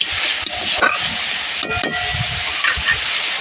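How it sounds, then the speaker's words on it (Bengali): Spice masala cooks down in a pan for a doi ilish (hilsa in yogurt) dish, a close, steady sizzle broken by several scraping stirs and soft clatters. "মশলাটাকে ভালো করে কষতে নিয়েছি"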